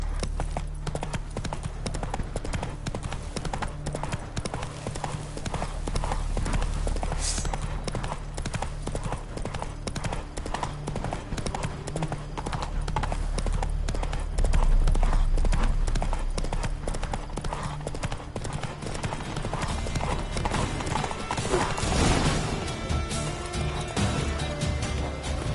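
Roach the horse gallops in The Witcher 3, a steady fast clip-clop of hooves running nearly the whole time over game music and ambience, with a brief crash partway through.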